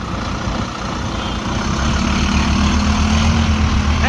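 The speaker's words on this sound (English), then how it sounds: "So he started his engine, so we'll set off once he does." Manchester bus engine idling, then rising in a steady low diesel rumble as it pulls away, loud and close throughout with no talk over it.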